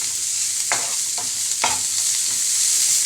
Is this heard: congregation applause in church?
no